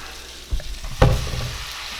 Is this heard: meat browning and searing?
yes